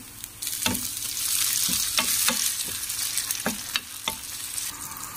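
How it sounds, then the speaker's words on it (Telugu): Onions and tomatoes fry in oil for a fish curry with a continuous close sizzle. A spoon scrapes the pan in several sharp strokes at an irregular pace, and no one speaks. "ఆనియన్స్ కొంచెం వేగిన తర్వాత అండి టమాటాలు వేస్తానండి."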